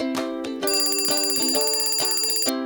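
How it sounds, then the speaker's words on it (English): Toy alarm in a Paw Patrol toy play scene, a loud electronic ringing melody of rapid repeating tones, close and unbroken for a couple of seconds. "That's the alarm."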